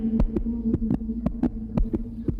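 Heartbeat effect in a horror story, a steady throbbing double thump repeating about twice a second over a low droning hum, close and heavy with nothing else over it.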